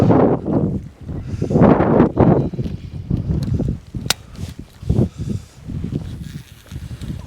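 Gusting wind buffets the microphone on a large breakwater at Yangpo, Pohang, during fishing, with strong broadband roars rising and falling in uneven bursts and a brief sharp click partway through.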